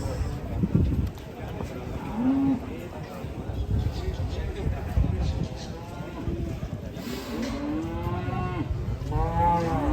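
A giant cow mooing in a pen, long loud lowing calls close by, repeated several times over a noisy background of people talking.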